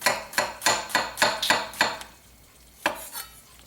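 A sharp knife slices thin rounds of mushroom on a cutting board for a salad, seven quick, evenly spaced chops followed by a pause and one more cut, close and crisp with no talk.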